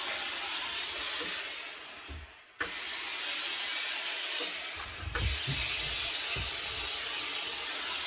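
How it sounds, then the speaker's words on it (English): Steam hissing steadily onto an Austrian Homburg hat of rabbit felt and fur during restoration, a loud close continuous spray broken by two brief stops and quiet handling noises. "So it's already taking in quite a lot of the steam here."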